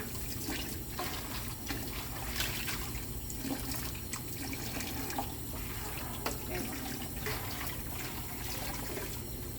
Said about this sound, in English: And then you can start rinsing.